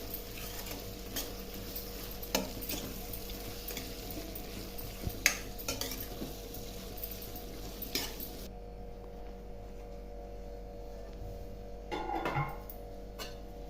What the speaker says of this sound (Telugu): ఇది బాగా కలుపుకొని ఒక పది నిమిషాలు మగ్గనిచ్చి